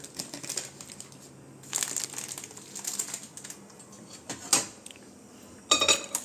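Popcorn kernels are poured into a cooking pot in several short, rattling bursts, with quieter rustling and clattering between them in a quiet room.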